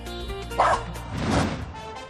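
Chinese crested dogs give a few quick, sharp barks and yips up close, loud and short with a brief gap between them.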